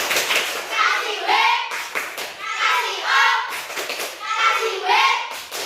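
Schoolchildren in an elementary classroom perform the "tepuk wow" rhythmic clap, three patterned rounds of group clapping, each paired with loud chanted voices, close and lively.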